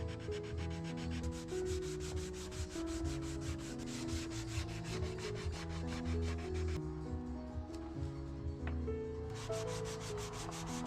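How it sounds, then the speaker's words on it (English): Steady back-and-forth rubbing of 180 grit sandpaper by hand on wood that will get a satin polyurethane finish, close and repetitive, with background music playing throughout. "Now lots of hand sanding with 180 grit."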